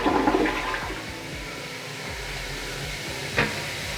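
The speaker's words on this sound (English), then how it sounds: "Toilet works good." A toilet flushes in a brand-new home, a loud close rush and gurgle of water that drains and settles into a steady hissing refill, with no talk.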